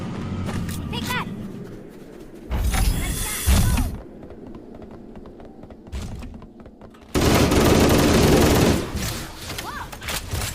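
Bursts of automatic gunfire in Halo: Combat Evolved Anniversary, two loud volleys with sharp shots between, heard over an excited player talking.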